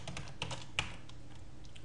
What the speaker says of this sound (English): Now, I can type things in here.